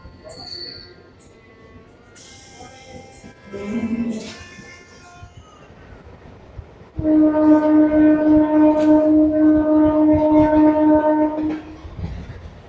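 A train rumbles along the rails with a steady rhythmic clatter, loud and close, a faint voice and noises heard before it builds.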